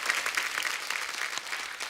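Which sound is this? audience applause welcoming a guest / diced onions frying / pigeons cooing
audience applause welcoming a guest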